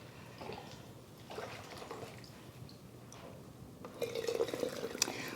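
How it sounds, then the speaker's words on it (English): Homemade chicken broth drips back into a pan while being poured into canning jars, a soft irregular trickle and patter up close, growing busier and louder toward the end, with no talking. "it can drip in the pan while I pour"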